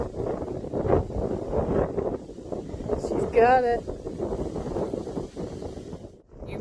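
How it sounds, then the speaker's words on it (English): Strong wind at the beach buffets the microphone with a steady low roar that runs the whole time, while people talk loudly over it. "You may not be able to hear me because it's one windy day at the beach."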